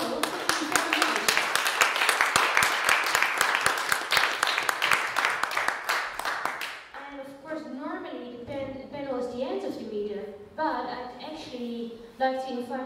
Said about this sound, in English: I would like to have a big applause for our whole panel.